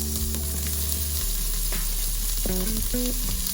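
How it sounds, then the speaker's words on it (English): Thinly chopped onion sizzles steadily in hot oil in a pot while making vegetable soya biryani, with a low hum underneath and a few brief clinks of a utensil near the end. "I'm going to saute it for like a second till it gets golden brown"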